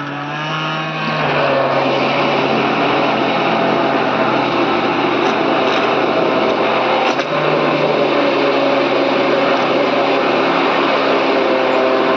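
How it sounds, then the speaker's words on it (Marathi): A steady, loud motor whine from a mixer grinder churning cream for ghee, running continuously after a brief start-up, with no talking. "त्याच्यात टाकून असं ग्राइंडर करून घेऊया"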